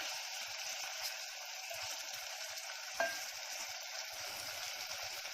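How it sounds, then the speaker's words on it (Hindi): Prawns and onions frying in a pan over a high gas flame make a steady, close sizzle that runs throughout, with one brief clatter near the middle. "अब इसको फास्ट गैस रखूँगा, फास्ट गैस में थोड़ा भूनूंगी झींगे की खुशबू निकलने तक"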